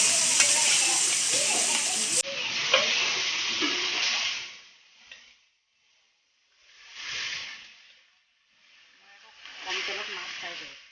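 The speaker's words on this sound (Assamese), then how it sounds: "এয়া মই মাছ ফ্ৰাই কৰি লৈছোঁ।" Fish frying in hot mustard oil for an Assamese fish curry in a home kitchen: a loud, steady sizzle at first, then the hiss dies down and swells again in slow waves.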